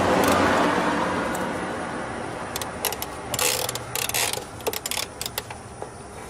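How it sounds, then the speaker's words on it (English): A hand ratchet backs out valve cover bolts on an engine. Short bursts of rapid metallic clicking come in irregular spurts over a faint background hum, close to the listener and fairly loud. "So I'll continue on and take all of the bolts out and we'll get the cover off."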